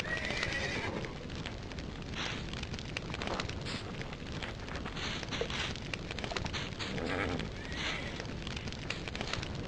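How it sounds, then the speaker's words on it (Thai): A horse in a video game neighs and its hooves clip-clop amid a dense, crackling, fire-like wash of game noise that stays loud and continuous throughout. "ขอม้าตัวอื่นสีอื่นแล้วกัน"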